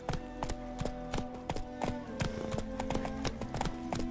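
Roach the horse gallops in The Witcher 3, hooves clopping in a quick, regular rhythm of sharp close beats over a faint tonal background.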